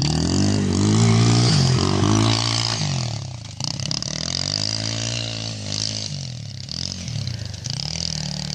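A Kymco Mongoose 90 pit bike rides up and hits a jump, its small engine droning and revving steadily with the pitch rising and falling. Clattering and scraping from the ride sit close and loud throughout, with no talk over it.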